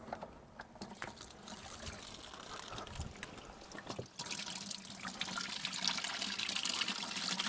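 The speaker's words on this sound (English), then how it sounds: "time to drain the mix of dishwasher powder and water." Water mixed with dishwasher powder drains out of a Volvo BM 500 coolant system, a steady trickling, splashing flow close by that grows louder and fuller partway through.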